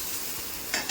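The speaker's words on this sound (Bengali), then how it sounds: "আলু আর উচ্ছে ভাজা চলছে" A brief, quiet sizzle of potato and bitter gourd frying in a pan, a soft steady hiss with a slight stir or scrape near the end.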